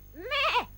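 Single goat bleat from a Dingo Pictures animated Hunchback of Notre Dame: a short, close, wavering cry rising then falling in pitch, heard alone.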